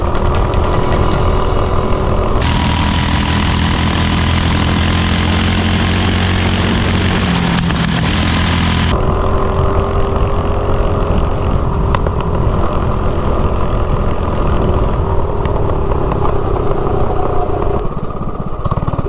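A 24-volt Razor dune buggy refitted with a Tillotson 212 engine revs hard and accelerates, with a loud, continuous engine roar whose pitch climbs and shifts throughout. It is close by, and no voices are heard.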